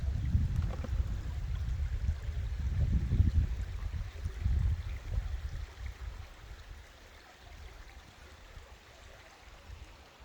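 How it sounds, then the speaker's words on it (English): Small side creek trickling into the Manistee River, heard from a kayak as a soft, steady low wash of flowing water with gentle swells of louder rushing early on, fading slightly toward the end. "A little side creek coming in here."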